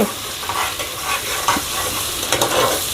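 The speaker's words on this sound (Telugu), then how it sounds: "ఇప్పుడు పచ్చివాసన పోయేదాకా వేయించుకోండి" Ingredients for chicken pulao frying in a pan with chilli and paste, a close steady sizzle broken by repeated scraping and stirring strokes of a spoon.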